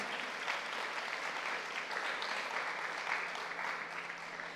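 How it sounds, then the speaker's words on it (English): A room full of people at a Beverly Hills Reads event gives steady, even applause, a dense wash of clapping held at moderate level throughout with no talk over it. "a round of applause"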